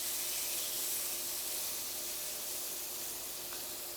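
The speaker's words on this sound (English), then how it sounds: "that's the sound you wanna hear. You want that sizzle, and that means, listen, that just means beautiful things are happening" Steak sizzling in a thin layer of oil in a pan gives a steady, dense, loud hiss that runs throughout without pause or talk.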